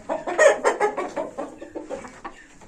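Hens and roosters cluck in a steady run of close, overlapping calls, fairly loud and busy at first, then thinning into softer, scattered clucks.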